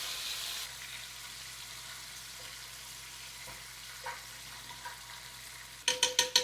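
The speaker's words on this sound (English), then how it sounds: "we're going to baste the scallops for about 30 seconds" Scallops basted in butter and soy sauce in a hot pan, giving a low, steady sizzle with soft spoon sounds, then a few sharp clinks near the end, close by with no talking.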